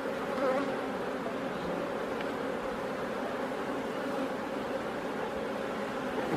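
Many honey bees buzz in a dense, steady hum close by at an open hive, a continuous swarm drone with no pauses.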